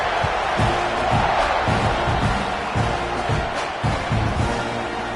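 A loud, steady roar of a large college football stadium crowd fills the space, with scattered thumps and muffled shouts mixed into the din.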